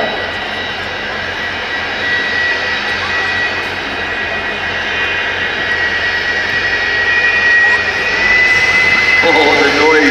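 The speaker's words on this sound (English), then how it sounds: "And at the wheel, Paul Stender, the school time jet-powered bus" A jet-powered school bus roars at an air show. A loud, steady jet whine and rumble holds and swells toward the end, and a commentator speaks over it.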